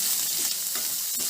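Broad beans tossed into a hot pan and stirred, a dense close sizzle with soft scraping stirs and a sharper clack near the end, no talking.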